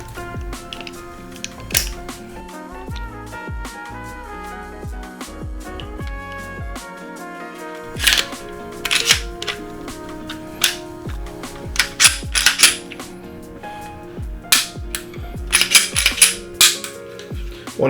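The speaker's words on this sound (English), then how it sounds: "Reassemble your firearm using your manufacturer's instructions." A semi-automatic handgun is put back together after cleaning, producing sharp metallic clicks, slides and snaps in irregular bursts, close and clear over faint background music, with no talking.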